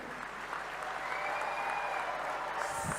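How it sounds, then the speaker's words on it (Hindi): An audience at an auto expo in Indore applauds to welcome the guests, with steady, dense clapping from a large crowd, sustained at even loudness across the whole stretch with no talk over it. "एक बार जोरदार ताली बजा के पधारे हुए सभी अतिथियों का स्वागत करें।"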